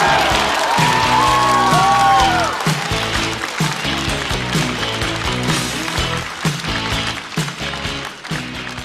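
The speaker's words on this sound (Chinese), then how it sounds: "让我们掌声欢迎重新归来的陈小静。" Audience applause and cheering greet a stand-up comedian on a comedy competition show, heard continuously under loud, rhythmic entrance music that dominates throughout.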